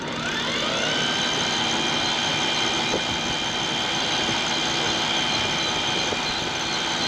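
Sailboat's engine pushed to high speed, a steady loud drone with a rising whine near the start, then a constant even roar with no talking.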